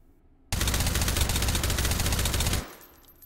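A suppressed M4A1 carbine fires a sustained full-auto burst in the VR shooter H3VR, a loud continuous rattling stream lasting about two seconds before cutting off.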